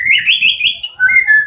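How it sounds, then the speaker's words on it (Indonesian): A loud, close white-rumped shama pours out a continuous run of rich, varied whistles and warbles, alone without any talking. "Itu dia murai batu saya yang di lapangan"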